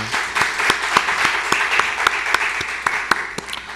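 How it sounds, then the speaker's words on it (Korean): Congregation applauding in a church during a Thanksgiving Sunday service, a steady dense wash of many hands clapping with a few sharper individual claps standing out, fairly close and sustained throughout. "찬양할 때 하나님께 큰 박수로 영광 돌리겠습니다."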